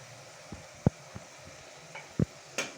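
Chopped onions go into melted butter in a pan: a faint background sizzle broken by a few sharp clinks and scrapes of a spoon, with a brief hiss near the end.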